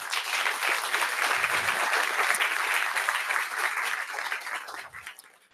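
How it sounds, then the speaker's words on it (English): A conference audience at the Open Source Firmware Conference applauds in a dense, sustained burst of clapping that holds steady and then tapers off near the end, with no talking. "Big applause for them."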